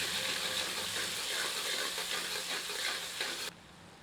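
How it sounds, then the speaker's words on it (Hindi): Steady sizzling and crackling of ginger garlic paste frying over medium heat in a hot pan, close and continuous, with faint stirring scrapes, cutting off abruptly near the end. "इसे 1 मिनट मध्यम आंच पर भून लेते हैं।"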